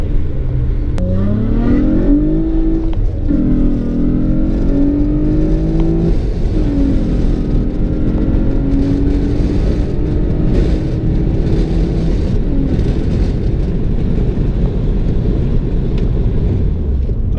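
A 2006 Acura TL fitted with a J-pipe exhaust accelerates, its engine note climbing through a few gear pulls before settling into a steady loud drone with road rumble, close and without talk.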